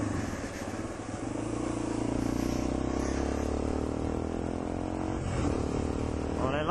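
A Suzuki RV125 VanVan motorcycle riding along a road, its engine a steady close drone that rises slightly as it overtakes cyclists, with wind noise and no talking.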